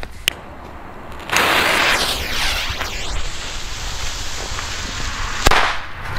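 WECO Pyrocracker firecrackers burst with sharp, loud cracks outdoors, one early and another near the end, over a steady background hiss and wind noise.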